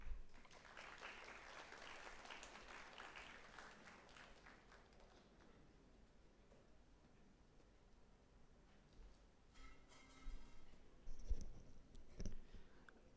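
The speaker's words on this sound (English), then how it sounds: "with a huge round of applause" Audience applause welcoming a guest speaker at an evening talk in Ahmedabad, a soft spread of clapping that fades to a low murmur, then a few louder scattered claps and bumps near the end.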